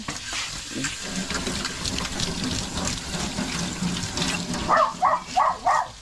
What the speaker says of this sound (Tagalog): Ayan, lakas ng tubig.